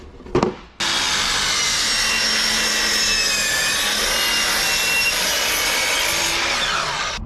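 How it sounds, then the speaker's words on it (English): Sliding compound miter saw cutting wood for a boat build, a brief knock, then a loud continuous close whine and cut that holds steady for several seconds. "I'm gonna take it over here to the chop saw,"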